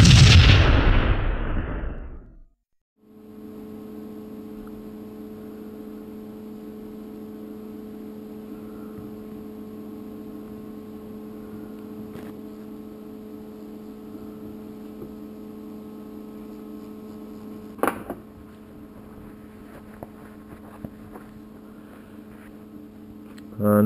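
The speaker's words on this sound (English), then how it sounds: "This is our Intratec TIG brush. This is what takes the discoloration off the weld" An Intratec TIG weld-cleaning brush working on discoloured welds on a turbo pipe puts out a steady electrical buzz that holds evenly for about twenty seconds, with a brief crackle near the end, after a short loud burst at the start.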